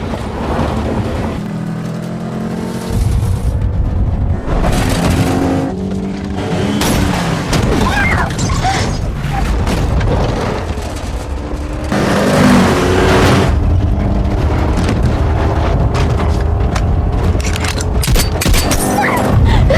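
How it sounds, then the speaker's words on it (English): A high-speed movie car chase on narrow country roads with gunfire and a collision, heard as dense, loud engine roar, booms and crashing impacts continuing throughout. "Metal grinding, bullets flying, until Mason forces Workman's vehicle off the road in a brutal collision"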